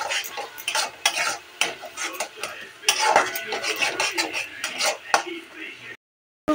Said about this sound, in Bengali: ঢেলে দিয়ে এগুলোকে একটু নাড়াচাড়া করে নেব ভাজা না হওয়া পর্যন্ত